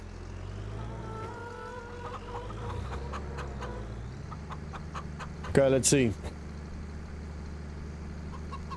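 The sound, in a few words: chickens clucking in coop, video game Farming Simulator 25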